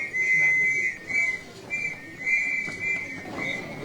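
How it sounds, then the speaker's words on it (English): A sharp, steady whistle blown repeatedly in long blasts at the start of a traditional Palestinian scouts procession in Bethlehem at Christmas, loud and close with crowd murmur underneath. "The traditional Palestinian scouts procession starts with a whistle blow"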